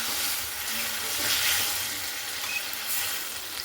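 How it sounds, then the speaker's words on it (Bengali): Potatoes with spices and a splash of water being stirred in a hot pan for an everyday potato curry, a steady loud sizzle with soft scraping of the spoon throughout, no talking. "জলটার সঙ্গে এভাবে খুব ভালো করে দেখুন নাড়াচাড়া করে নেব।"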